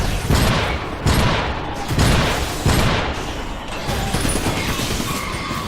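Gunfire in the video game Iron Brigade, on a beach stage: a series of loud heavy booming shots about a second apart, each with a rumbling tail, over constant battle noise.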